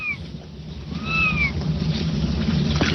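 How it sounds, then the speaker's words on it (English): A kitten sliding down a slide gives two short, high meows about a second apart, fairly close, followed by faint background noise. "there's just an adorable little kitty sliding down a slide"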